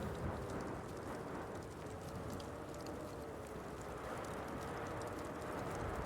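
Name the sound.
thunderstorm in the video game Pig Detective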